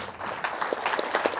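An audience applauding a meditation teacher, Navakanth Master, at a spiritual gathering: a brief burst of dense, steady clapping from many hands, fairly close and filling the room.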